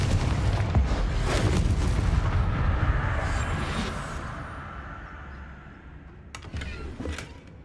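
A Confringo fire spell explodes in Hogwarts Legacy with a loud blast that rumbles and fades over several seconds, followed by a few sharper crackling bursts near the end.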